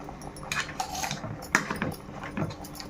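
A spoon clinks and scrapes against a pan while stirring phool makhana in ghee and sugar syrup, with a few sharp metallic taps between quieter scraping.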